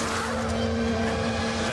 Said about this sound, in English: Lap 22, Mika Hakkinen comes to the pit lane